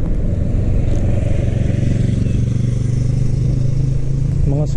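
Scooters and mopeds ride along a bike lane in the Netherlands, a steady close motor drone and road rumble continuing throughout, with a brief whirring rise near the end.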